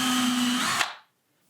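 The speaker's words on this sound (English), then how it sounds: "To demonstrate the installation, I'm going to pre-drill into this piece of 2x4." A power drill pre-drills into a piece of 2x4 wood, a steady high motor whine with grinding bite that runs for most of a second, then cuts off and spins down into silence.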